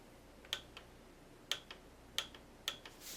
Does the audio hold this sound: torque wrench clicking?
yes